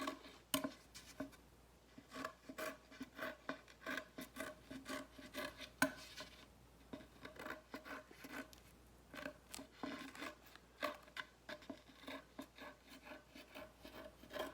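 Scissors cut all the way around a circle, giving a close, quiet series of irregular snips and rasping strokes with brief pauses in between.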